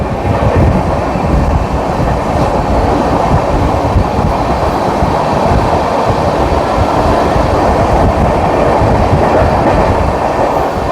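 Bihar Sampark Kranti Express train passing close by, a loud, steady roar of wheels and wagons rumbling continuously throughout with rhythmic clatter and no voices.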